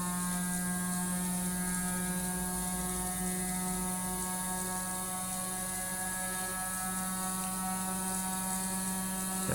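A gyroscope is spun up by an electric motor toward roughly 8,000 to 9,000 RPM, giving a steady whirring drone with layered tonal whine and hum, close and continuous with no talk.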